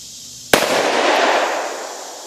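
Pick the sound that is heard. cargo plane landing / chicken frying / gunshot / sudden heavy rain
gunshot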